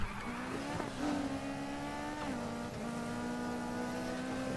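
Nissan 350Z racing in Need for Speed Heat, a steady high engine drone with shifting pitch as gears change, accompanied by faint tire noise, continuous and close.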